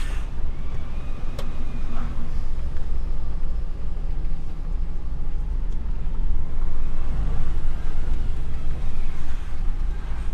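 A DAF XF 480 HGV lorry pulls forward, its engine a loud, steady low rumble with road and wind noise heard from inside the cab throughout.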